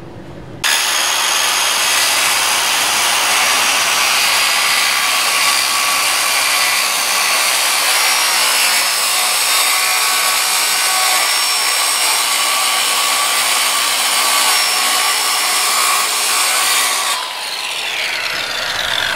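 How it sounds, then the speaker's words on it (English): A power saw rough-cuts the corner of a plastic laminate countertop, a loud, continuous, high-pitched cutting whine that holds steady for about sixteen seconds before easing off at the end. "I'm going to cut this back at least 1/4, 3/8 of an inch back, because that's going to be our rough cut"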